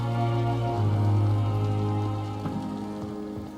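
Steady rain pours through a rainy night scene in the video game Vampyr, a constant close hiss layered over a low droning hum, with no voices.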